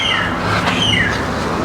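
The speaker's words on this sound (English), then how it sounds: "I can hear the birds chirping" Birds chirp and squawk briefly in short, thin calls over steady outdoor background noise during a walk through Taitung City, Taiwan.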